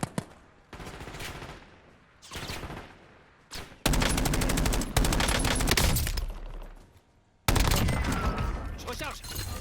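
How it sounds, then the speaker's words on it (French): Rapid automatic gunfire bursts in the battle royale game Warzone, loud and close, several sustained volleys separated by brief pauses. "J'ai su des tirs."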